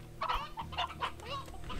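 Several hens cluck in a close burst of short, overlapping calls from a kept flock of chickens.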